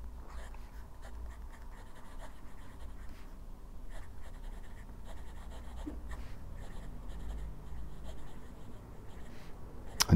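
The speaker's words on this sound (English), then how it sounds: "it's a fine nib, and I do actually enjoy writing with good quality fine nibs" A fountain pen with a fine nib and Atramentis Midnight Blue ink scratches steadily across paper, with soft continuous strokes close up and no talking.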